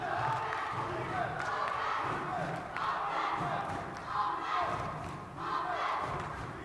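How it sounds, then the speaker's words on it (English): A crowd at a men's college basketball game between Brookdale and Community College of Philadelphia cheers and yells steadily in a gym late in a close game, with a commentator talking over the noise. "Crowd is into it."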